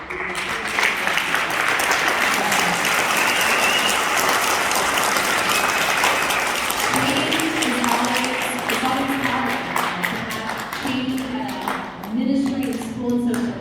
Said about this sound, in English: Just a round of applause for Mike and what he's done